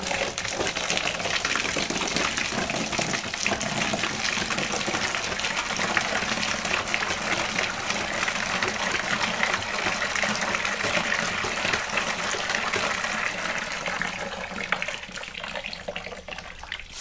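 Water rinsing a motorcycle helmet, a steady close gush from a running tap splashing over the shell and lasting the whole time with no speech.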